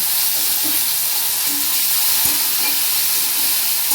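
Chopped tomato going into a pan of vegetarian soybean curry, a loud, steady sizzle and frying hiss filling the whole stretch, with faint stirring clinks and no talk.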